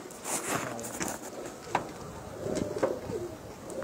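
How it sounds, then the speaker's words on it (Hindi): Pigeons at a rooftop loft in Jeddah, soft cooing and rustling wing flutters with a few sharp taps, close and fairly quiet, no talk. "कबूतर दिखा रहे हैं जी"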